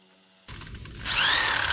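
A drill mixes self-leveling concrete in a bucket. It starts abruptly with a churning rumble, then rises into a loud, steady whining grind that runs to the end, with no voices.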